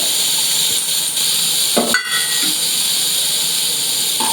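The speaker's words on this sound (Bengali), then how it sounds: "রসুন কুচি সেটাও দিয়ে দিলাম ফ্লেমটাকে কমিয়ে দিতে হবে নাহলে পুড়ে যাবে একদম" Chopped garlic fries in oil with a loud, constant hiss and sizzle throughout, broken by a brief clatter of utensils near the middle.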